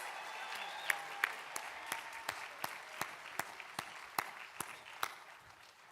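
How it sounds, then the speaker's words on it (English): A university commencement crowd applauds graduates in a large venue. The wash of distant clapping is fairly quiet, with sharp louder claps standing out at irregular intervals over a few seconds. "can we get another round of applause for all the graduates from the College of Arts and"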